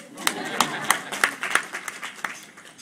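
Scattered audience clapping at a forum event, a handful of separate sharp claps in uneven rhythm with a faint murmur beneath, close and moderately loud.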